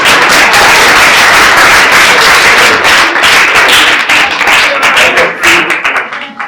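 Students applaud together in a dense, loud burst of clapping lasting several seconds, then thinning out toward the end.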